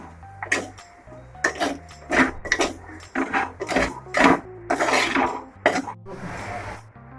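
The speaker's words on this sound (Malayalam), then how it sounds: "ഇട്ട് കൊടുത്തിട്ട് നല്ലപോലെ ഒന്ന് ഇളക്കി കൊടുക്കുവാണ്" Cooked tapioca stirred with a spice mix in a pot, a series of close, irregular scraping and thudding strokes with clatters of spoon against metal, uneven in rhythm and loudness.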